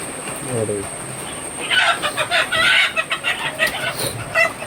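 Native country chickens cluck close by in quick, uneven bursts over a faint background hum, with a short low call at the start.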